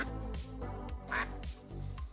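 Ducks in the video game Town to City give soft, repeated quacks at a low level, with several short nasal calls in a loose rhythm over a light background.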